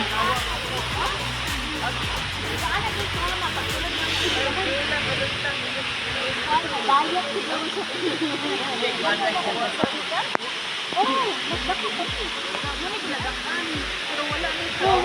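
Steady broad roar of Katibawasan Falls, a wide waterfall, fills the whole clip, with voices talking faintly underneath and a few low thumps near the end.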